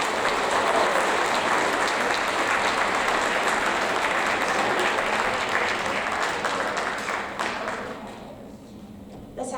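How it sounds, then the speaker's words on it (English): Sixth grade award winners receive a dense round of applause from the audience, steady and full for about eight seconds before thinning out and fading near the end. "Now let's give them a round of applause."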